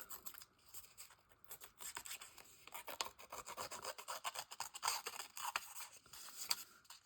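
Quiet, rapid scratching of a small tool against thin paper, a dry rasping texture with irregular strokes, close up and faint.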